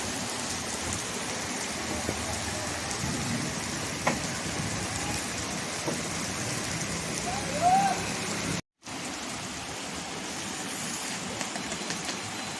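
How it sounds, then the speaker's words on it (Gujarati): Steady rain pours down with a cool wind in Nadiad, a dense, continuous hiss of falling drops, with a brief moment of silence near the end. "મસ્ત ઠંડા પવન સાથે વરસાદ પડી રહ્યો છે"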